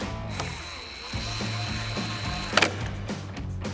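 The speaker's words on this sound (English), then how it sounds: "Now once again, you're tightening into plastic, so snug is good." Factory T15 Torx screws driven snug into the plastic trim of a LED projector headlight on a 2019-2024 RAM 2500, giving a steady mechanical whir with a low repeating pulse and one sharp click near the end.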